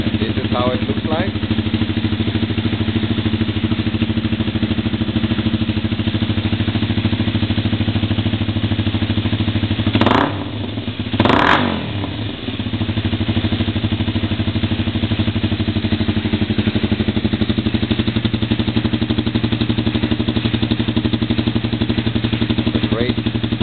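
A motorcycle with a Tsukigi full carbon exhaust idles steadily up close, then gives two quick, sharp throttle blips in a row before dropping back to a constant idle.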